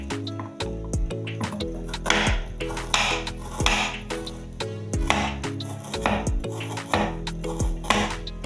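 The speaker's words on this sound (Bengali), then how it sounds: "আমি এই গাজরগুলো ছোট ছোট টুকরো করে কেটে নেব" Carrots are chopped into small pieces on a board, a brisk run of sharp knife strikes in an uneven rhythm, close and fairly loud, with no speech.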